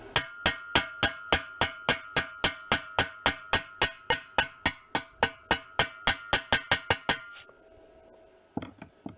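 A hammer chips slag off a fresh weld with about two dozen sharp, ringing metallic taps in a steady, fast rhythm, close and clear, then stops and leaves quieter scraping and clatter.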